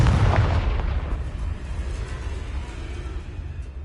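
A Confringo fire-spell blast in Hogwarts Legacy, one heavy booming explosion at the start that rumbles low and fades into a long, hissing, crackling tail.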